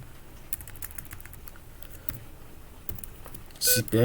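Quick, light taps on a computer keyboard patter steadily at close range, ending in a louder cluster of keystrokes.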